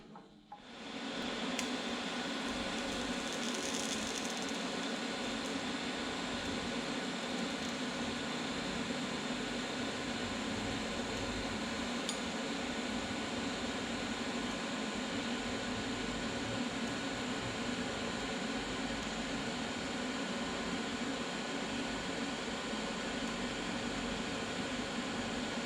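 A TIG welder fitted with a gas lens on a Vulcan Omnipro 220 runs a weld, giving a steady, even hiss and hum that starts abruptly and holds unbroken for about twenty-five seconds, with no voices.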